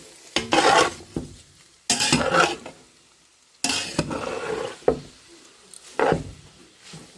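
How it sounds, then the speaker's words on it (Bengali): Pasta tossed with garlic and olive oil in a pan, bursts of scraping and stirring with a light sizzle, separated by short quiet gaps, close and fairly soft. "এই যে তো মিক্স করতে যাচ্ছি ভালো করে রসুন এবং হচ্ছে অলিভ অয়েলের সাথে"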